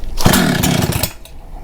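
Husqvarna 266 XP chainsaw engine pull-started after carburetor cleaning: a single loud, close crank that briefly sputters and revs with a rough rising drone, then dies away.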